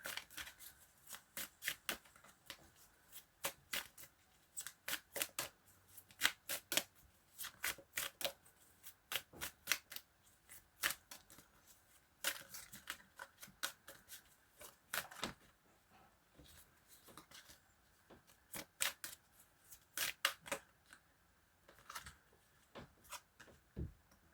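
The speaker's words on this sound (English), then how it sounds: "I'm just going to keep shuffling and see what comes through." Tarot cards are shuffled by hand in repeated bursts of crisp riffling and soft slaps, close and fairly quiet, with short pauses between rounds and no talk.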